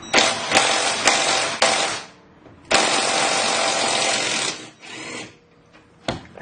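An impact wrench loosens control arm nuts on a Galant/Legnum VR4, with loud, sustained whirring hammering bursts of about two seconds each, broken by brief pauses and a short final burst, with no talking.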